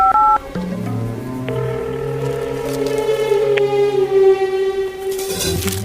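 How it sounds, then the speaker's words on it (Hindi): A few short dialing tones at the start, followed by layered electronic tones and beeps that rise and hold, loud and close. "लगा तो फोन बसंती ला।"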